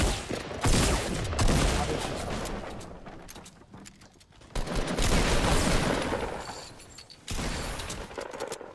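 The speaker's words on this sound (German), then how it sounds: "Irgendeiner schießt." Gunfire rattles through a Fortnite match in rapid bursts, loud and close. The volleys come in several clusters separated by brief lulls.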